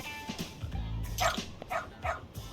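A dog in the video game Lost Judgment gives several short, separate barks, close and fairly loud, spaced irregularly in quick succession.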